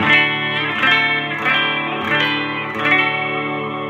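A Gibson SG electric guitar rings out in sustained chords with lush reverb from a TC Electronic unit through an old Tweed Fender amp, each strum blooming and trailing off before the next, clear and up front.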